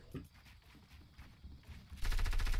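Gunfire in the video game Fortnite during a build battle, scattered thuds and taps followed by a loud rapid burst of repeated shots near the end, close and dense.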